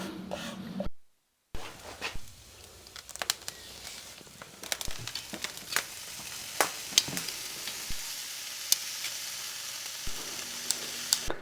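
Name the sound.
spiced lamb chops sizzling fat side down in fire oven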